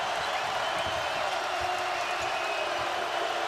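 Basketball arena crowd in a UCLA vs Kansas game, on its feet and cheering: a dense, steady roar of many voices with scattered whoops and claps, sustained and loud throughout.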